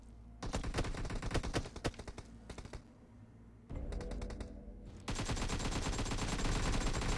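Gunfire in the video game PUBG Mobile's zombie infection mode, dense rapid automatic bursts and overlapping shots from several guns, loud and nearly continuous with brief lulls, no talking.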